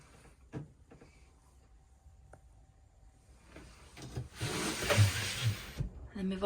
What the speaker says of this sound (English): Below the mirrors you've got a sliding door that leads into your garage.